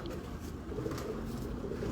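Pigeons cooing from a pair of show birds, low soft murmuring coos repeating under a steady background hum, moderately close and faint, with no talk.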